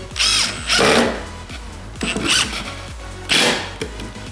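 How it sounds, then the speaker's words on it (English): A power drill drives screws into a wooden 15-inch slot-ported subwoofer box in repeated loud bursts, each one a rising whir with the motor revving up and then stopping. "I'm just going to fill these with screws."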